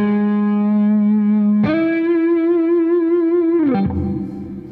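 Electric guitar on the neck pickup of a G&L Tribute Will Ray with effects and light distortion: two long sustained notes bent and held with vibrato, loud and close, without talk.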